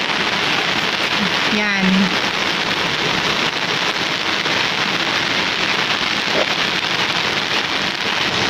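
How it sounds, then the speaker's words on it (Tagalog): Heavy rain falls on garden plants in a dense, steady close hiss, with a short spoken word early on. "Ayan po, lakas ng ulan"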